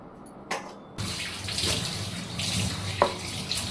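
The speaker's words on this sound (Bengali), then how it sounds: "হালকা জল দিয়ে দেবো আর পেস্ট করবো।" Water poured into a spice paste of mustard, poppy seed and coconut before grinding, a short close splash and trickle in a quiet kitchen.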